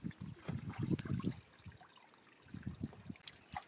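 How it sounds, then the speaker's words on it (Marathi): Clothes are swished and sloshed in the water of a stream in irregular bursts of splashing and dribbling, quiet and close, with a pause midway. "हा काय वड्यावर धुणं धुवायला आली"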